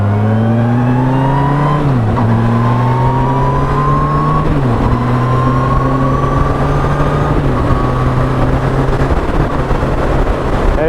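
A Yamaha FJR1300 motorcycle accelerates hard out of a corner, a loud close engine climbing through the gears with several upshift dips. It is a continuous strong roar throughout.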